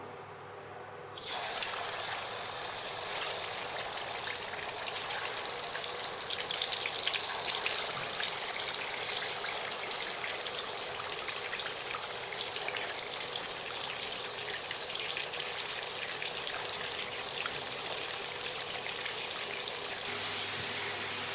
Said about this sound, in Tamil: நம்ம ரெடி பண்ணி வச்சுருக்க சிக்கனை இதில் கொஞ்சம் கொஞ்சமாக ஆட் பண்ணி எல்லாத்தையும் ஃபுல்லாக பொறிச்சு எடுத்துக்கும்